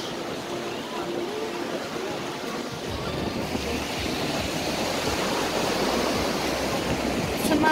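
Waves wash onto a beach, a continuous rolling surf roar with some wind buffeting the microphone, holding steady and swelling slightly louder toward the end.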